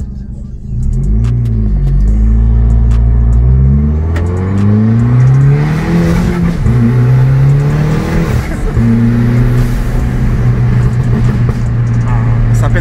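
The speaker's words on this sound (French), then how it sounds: "La décharge du turbo aussi, c'est intéressant." An Abarth 695 Limited Edition Stage 3 engine revs up and down repeatedly, loud and close, with rising and falling pitch sweeps and turbo blow-off hiss between revs, recorded from inside the car.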